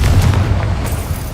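Confringo, a blasting spell in Hogwarts Legacy, erupts in a loud, deep boom that rumbles steadily for about a second and then tails off, with no one talking.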